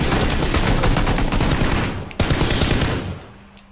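Gunfire in the video game PlayerUnknown's Battlegrounds: loud, dense automatic bursts rattle almost continuously, broken by one sharp crack and a short lull before trailing off.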